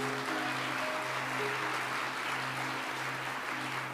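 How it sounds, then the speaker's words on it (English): Applause from a church congregation honouring the children's ministry volunteers at Calvary San Diego's 2024 year-end gathering: a steady, dense wash of clapping that holds for the full few seconds over a faint low hum. "Can we give a big clap to those that serve our kids?"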